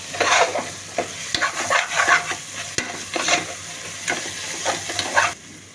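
Green chillies fry in oil in a biryani pot while being stirred, with crackling sizzle and repeated scraping strokes of the spoon in an uneven rhythm, loud and close.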